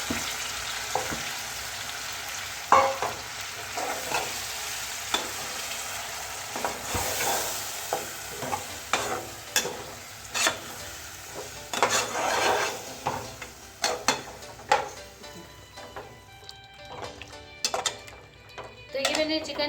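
Yogurt-marinated chicken pieces sizzle and fry in a kadai, with repeated scraping and stirring clinks of a utensil against the pan, close and moderately loud, with occasional brief speech.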